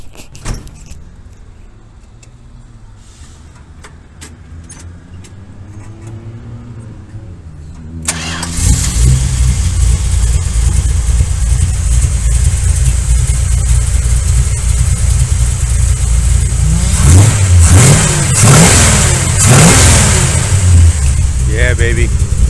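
A 1970 Plymouth 'Cuda with a 440 V8 cranks, catches and settles into a loud, lumpy idle with several throttle blips, preceded by faint keys and quiet talk nearby.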